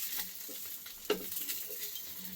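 Tomato dosa batter cooks on a hot pan with a soft, steady sizzle and faint crackle, quiet and close, with a small tap of a utensil partway through.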